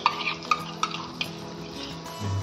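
Cashew paste and whipped yogurt go into a frying fish masala. Soft sizzling runs under several light clinks and scrapes of a spoon against the pan, close up.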